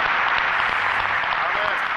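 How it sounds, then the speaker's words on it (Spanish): Church congregation applauding together during a worship service, a steady wash of clapping that stays dense and even, with no pauses, across the whole short stretch. "Levántale un aplauso al Señor, porque Él es digno."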